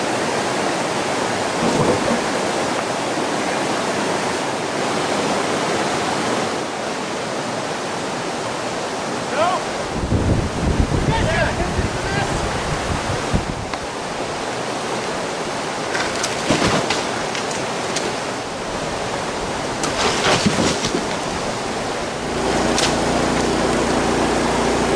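Running water pours steadily through a Keen 173 extended sluice high banker used for gold, a loud continuous rushing wash with occasional splashes and knocks, heard close by.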